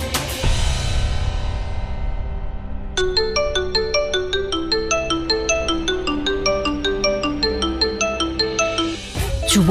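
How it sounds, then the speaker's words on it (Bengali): A mobile phone ringtone plays loud and alone, starting with a swell and then repeating a bright electronic melodic pattern steadily for several seconds before cutting off. "যুবরাজ আমাকে কেন ফোন করছে?"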